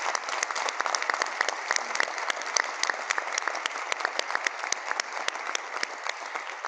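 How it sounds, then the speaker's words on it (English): A community celebration audience applauds steadily for the whole stretch, a dense, even wash of many hands with sharp individual claps standing out, fairly distant and moderately loud, with no talking over it. "That deserves applause."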